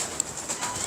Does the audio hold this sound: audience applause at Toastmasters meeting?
no